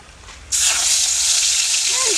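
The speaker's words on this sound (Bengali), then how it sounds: "তেলটা গরম হয়ে গেছে, আমি মাছগুলো দিয়ে দিব।" Rohu fish pieces slid into hot oil in a wok burst into a loud, close sizzle that starts abruptly after a quiet moment and then holds as a steady crackling hiss.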